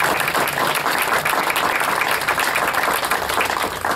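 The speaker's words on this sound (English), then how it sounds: "very large round of applause." Dense, loud, sustained applause from an audience honouring volunteers, board members and staff, an even wash of clapping with no break.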